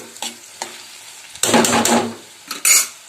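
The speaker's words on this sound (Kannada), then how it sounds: "ಇದನ್ನು ಒಗ್ಗರಣೆಯಲ್ಲಿ ಲೋ ಫ್ಲೇಮಲ್ಲಿ ಒಂದು 3 ರಿಂದ 5 ನಿಮಿಷ" Short bursts of sizzling as lentils fry in hot tempering oil on low flame, with spoon scrapes and stirring clatter between them, close up.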